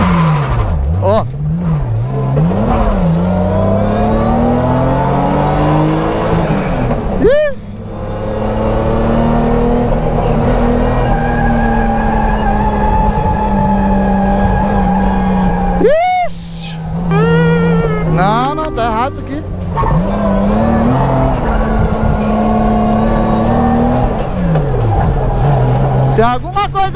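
A Nissan 350Z drift car at a drifting championship, running weak and down on power, revs its engine in repeated rising and falling bursts, loud and close, with brief dips between pulls.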